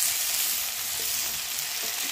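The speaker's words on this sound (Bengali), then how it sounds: "তো সিমটা দেখো ভাজা ভাজা হয়ে গেছে" Broad beans fry in a pan with a constant close crackling sizzle and a few faint stirring ticks, heard alone without any voices.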